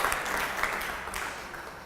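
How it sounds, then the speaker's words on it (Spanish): Moderate audience applause for storytellers at a narrative performance event, a continuous patter of many hands that gradually softens. "Un aplauso para ellos"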